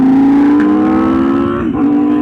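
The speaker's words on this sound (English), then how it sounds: "this thing sounds absolutely insane. If you guys can see, it has a quad exhaust." A hypercar with a quad exhaust and catalytic converters still fitted, idling at an auto museum toy drive, gives a loud, steady, high-pitched engine drone that rises slightly with a brief blip near the end.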